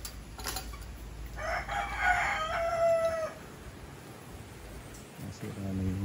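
A rooster crows once, loud and fairly close, on a farm where chickens lay eggs together, with a softer clucking call from a bird near the end over low background murmur.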